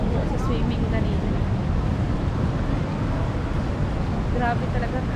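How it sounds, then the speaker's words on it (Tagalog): Strong wind sweeps a surfing beach at Baler, Aurora, Philippines, a steady loud roar battering the microphone, with surf blended in and voices faintly underneath. "Grabe talaga hangin."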